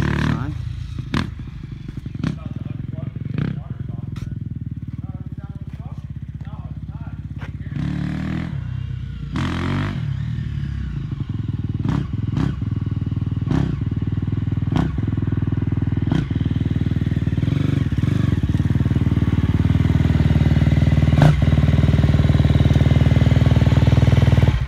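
KTM 250 dirt bike with a new Rekluse clutch, engine idling and revving unevenly with rising throttle as it rides off, mechanical clatter and faint voices under the steady drone.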